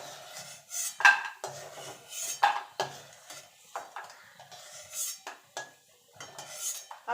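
A metal utensil scrapes and clinks against a pan while lifting out deep-reddened fried urad dal bori from the oil. Irregular close scrapes and taps come in short bursts with quiet gaps between them.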